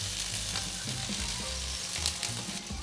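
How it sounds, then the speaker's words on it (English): Romanian sausages frying in oil, a steady close crackling sizzle with occasional louder pops and faint stirring, no voices. "We let them sizzle on each side for about 3 minutes, or at least until all are cooked evenly."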